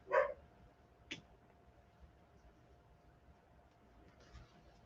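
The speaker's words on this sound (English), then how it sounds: "my puppy agrees, if you can hear her in the background" A single short dog bark near the start, then a second fainter yip, with a quiet background and a faint later sound.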